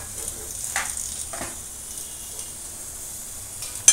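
Ponnaganti greens curry with moong dal fries in a pan on the stove, giving a faint, steady sizzle and occasional soft scrapes from stirring, with no voices.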